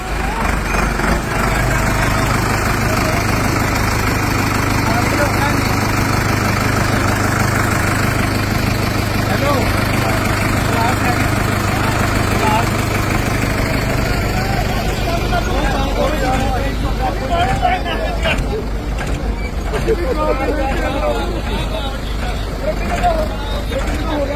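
Tractor engines idle with a low, steady rumble while a crowd of people talks nearby throughout.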